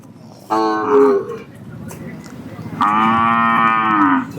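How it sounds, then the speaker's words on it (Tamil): A native cow at the Palayakottai cattle market moos twice, loud and close: one short call, a pause with faint background noise, then a longer, drawn-out moo. "நல்ல மடி இறக்கமுள்ள மாடு."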